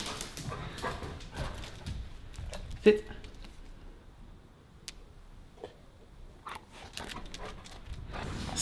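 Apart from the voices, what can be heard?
dog barking and whimpering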